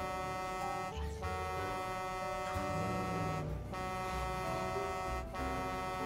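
A vehicle horn in the zombie survival game State of Decay 2 blares in long sustained blasts with brief breaks, loud and continuous over a low engine hum, no voices.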